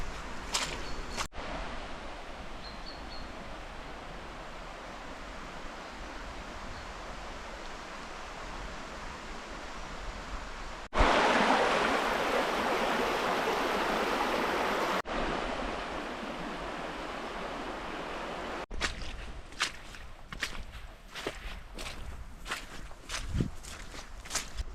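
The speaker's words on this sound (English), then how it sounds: "I'm definitely ankle deep in water now" Waterproof boots splash and slosh through ankle-deep water on a countryside walk near a river, with a steady rush of wet stepping, a louder burst of churning water midway, then sharper, uneven footfalls toward the end.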